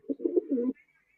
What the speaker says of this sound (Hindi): वो नांगूरी कबूतरी है